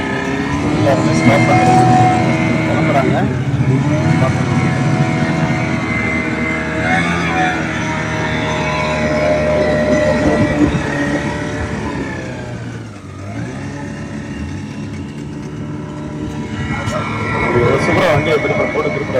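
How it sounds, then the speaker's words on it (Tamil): A Yamaha outboard engine drives a tour boat through a mangrove forest, a loud steady motor drone with shifting pitch as it revs and eases, while someone talks over it. "இதுலேயும் வந்து பார்த்தீங்கன்னா யமஹா என்ஜின் பாருங்க."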